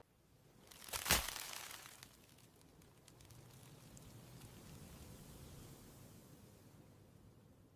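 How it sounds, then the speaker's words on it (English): Biting into a fried Roman rice ball filled with ragu and cheese: one sharp, dry shattering crunch near the start, followed by soft, low crackling and rustling as the shell gives way, close and alone. "A dry, shattering crunch"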